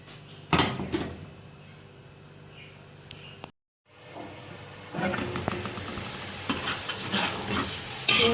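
Spices sizzling as they hit hot oil for kadhi pakora, a steady frying hiss with stirring and clatter, rising louder after a brief silence.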